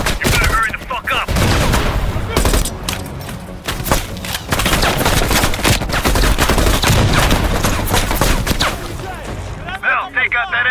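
Dense bursts of machine gun fire and gunshots rattle through a Call of Duty: Black Ops Cold War battle, nearly continuous with booms and thuds, while voices talk over the gunfire.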